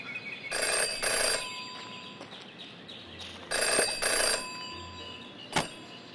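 In the video game Jenny LeClue, a telephone bell rings in two long bursts, clear and fairly loud, followed by a short sharp click, with quiet ambience between rings.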